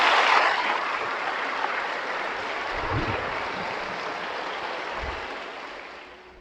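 A church congregation applauding, a broad, sustained wash of clapping from many hands that fills the room and slowly fades toward the end, with no talk over it.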